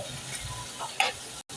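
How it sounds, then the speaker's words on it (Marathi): Onion and chicken fat frying in a pan give a low, steady sizzle with a light clink of stirring partway through, ending in a brief drop to silence. "कांदा एक 2-3 मिनटं शिजवल्यानंतर आम्ही ही चरबी घातलेली आहे"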